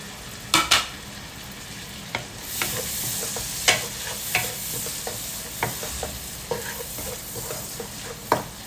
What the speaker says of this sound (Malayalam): ഇനി ആ സമയത്ത് നമ്മുടെ എടുത്ത് വെച്ചിട്ടുള്ള തക്കാളി ഇതിലോട്ട് ഇട്ട് കൊടുക്കാം